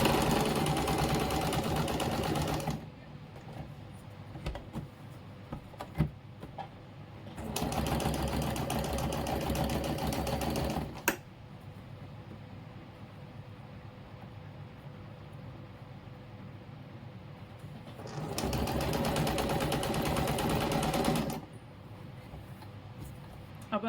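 An electric sewing machine stitching the front panel of a suit at the neck, loud close whirring runs of rapid stitching in three separate bursts, separated by quieter pauses of handling noise.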